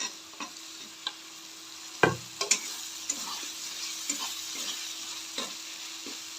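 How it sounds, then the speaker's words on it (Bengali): Spice mixture of ground coriander, cumin and salt with chopped tomato sautéing in a pan for an egg and potato dish, a soft steady sizzle broken by repeated spatula taps and scrapes, one louder knock early on. "এবারে এটাকে মশলাটাকে ভালো করে কষিয়ে নেবো"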